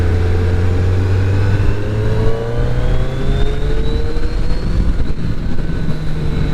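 A 2022 Suzuki Hayabusa motorcycle under way, its engine note climbing steadily as it accelerates, loud and close, with a rising whine over a deep rumble and no voices.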